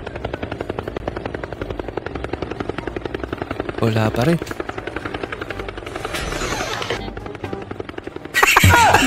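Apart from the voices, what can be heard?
helicopter sound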